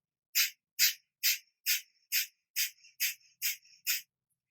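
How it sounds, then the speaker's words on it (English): Breath of fire yoga breathing: nine forceful, evenly spaced nasal exhales puff out in a quick, steady rhythm, close and clear with silence between each burst. "And this time we're going to do the breath of fire."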